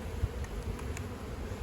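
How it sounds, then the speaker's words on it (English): Full colony of honey bees in an open field apiary during hive splitting, a low steady buzzing drone close by with occasional individual bees passing near. "Nice full colony of bees."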